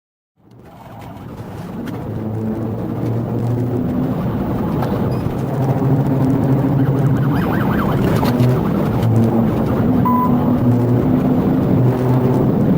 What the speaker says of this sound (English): continuing to accelerate and race through narrow residential streets